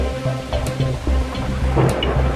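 Heavy rain pours down in an animated Hindi children's story, a steady dense hiss running the whole time with low rumbling underneath and no voices.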